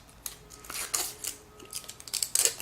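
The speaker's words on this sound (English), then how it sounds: "I'll go ahead and peel it off the plastic." Plastic film is peeled off a 2010 iPod Nano, giving a series of faint, crisp crinkles and small rustling bursts spaced irregularly, close up and quiet.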